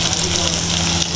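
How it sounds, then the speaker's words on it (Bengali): Okra frying in hot oil in a pan gives a steady, loud broadband sizzle, close and continuous, with a low hum underneath. "ঢেঁড়স ভাজা হচ্ছে, দেখতে খুব সুন্দর লাগছে"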